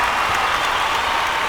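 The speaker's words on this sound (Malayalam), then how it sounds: "മോഹൻലാൽ ഫാൻസ് ഉണ്ടെങ്കിൽ ഒന്ന് കൈയടിച്ചാൽ ഭയങ്കര." Audience of Mohanlal fans at a stage music show gives a short, steady wash of applause, many hands clapping together at an even level throughout.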